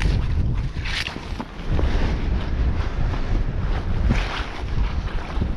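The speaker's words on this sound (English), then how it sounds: "I can feel the winds building as well, because we've got a storm on the way." Strong coastal wind buffets the microphone at low tide ahead of an approaching storm, a steady roaring rush with surf noise beneath, loud and continuous throughout.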